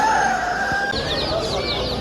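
Several chickens and chicks cluck and chirp close by at a poultry and exotic animal market, with a rooster-like crow and faint voices in the background.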